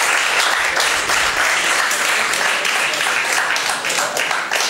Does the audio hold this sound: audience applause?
yes